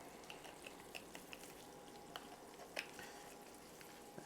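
Garlic frying in a pan for a chicken Alfredo garlic bread recipe, giving a quiet, steady sizzle with small crackles and pops throughout.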